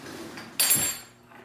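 A metal teaspoon being pulled from a kitchen drawer, a single bright clink and rattle of cutlery, close and short, with no talking.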